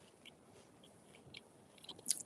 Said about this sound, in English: I want to eat my pie, but it's kind of half collapsed.